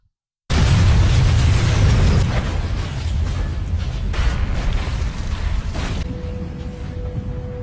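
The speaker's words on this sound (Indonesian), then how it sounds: "Sunny melompat dan seketika meledak." A sudden loud explosion bursts out of silence and trails into a long rumbling roar that slowly fades, ending with a faint steady hum.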